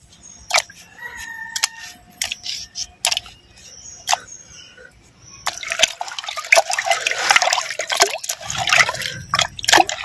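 Roasted salted mutton pieces are rinsed in water, with drips and clinking at first, then a closer burst of splashing and sloshing as the meat is swished around; no talk.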